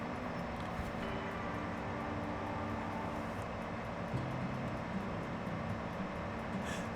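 A train running in the farming game Farming Simulator 17, a steady continuous rumble with a low droning engine tone, even and unbroken throughout.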